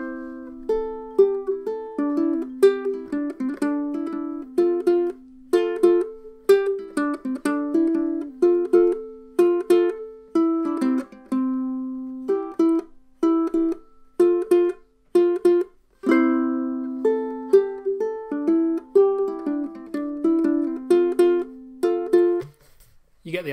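Solo ukulele picks out a song, with clear plucked notes and strummed chords in a steady, bouncy rhythm. The playing is close and alone, ending with a brief scrape.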